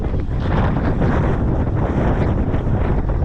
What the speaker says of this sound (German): Sehr windig geworden.